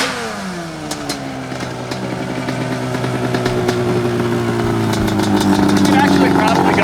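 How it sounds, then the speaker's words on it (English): A Yamaha Banshee four-wheeler engine runs steadily nearby, its pitch slowly climbing as it revs, loud and continuous throughout the clip. "why is he riding my four-wheeler"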